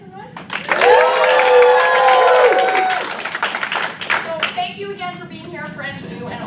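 Returning audience members at an improv class show clap and cheer loudly, with whoops and shouts over the clapping before it fades and a voice starts speaking.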